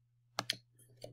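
Two sharp computer mouse clicks in quick succession, close and clear, followed by a softer third click over a faint steady hum.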